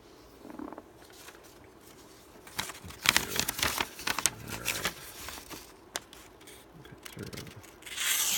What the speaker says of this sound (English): Let's get into some cutting here.